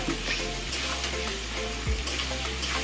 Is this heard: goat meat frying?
yes